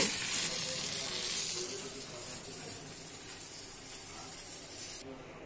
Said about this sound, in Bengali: প্রথমে আমি বেগুনগুলো ভেজে নেব